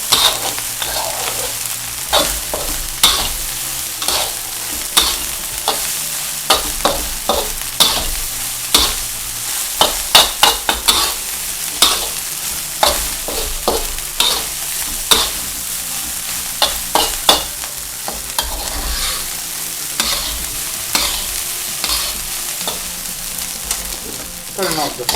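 Nasi goreng kampung stir-fried in a wok, with a steady loud sizzle under rapid, irregular scrapes and clanks of a spatula tossing the rice, close up and continuous, without any voices.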